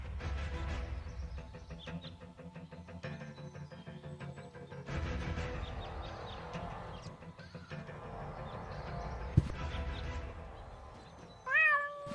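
A cat meows repeatedly in the video game Deponia, over a continuous musical backdrop, with a bright chirpy tone rising near the end.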